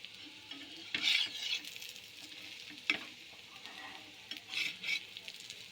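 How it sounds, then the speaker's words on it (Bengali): Food frying gently in a little oil in a pan over low gas, a soft steady sizzle with a few louder bursts and scrapes of a utensil against the pan. "একটু হালকা করে একটু তেল দিয়ে দেব।"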